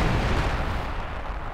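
A Pak 43 anti-tank gun fires at close range in the Company of Heroes 2 game, a loud, deep boom with a heavy low rumble fading over a second and a half.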